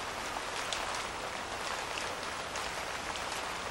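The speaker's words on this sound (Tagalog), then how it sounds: "Kailan kaya titigil itong ulan?" Steady rain pours down in a dense, even hiss of countless drops, with no pauses and no voices.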